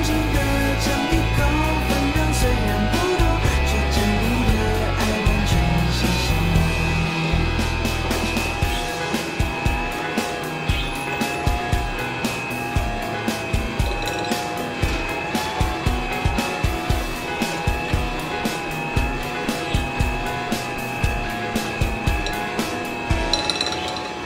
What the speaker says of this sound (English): Now you can see the mixer is powerful.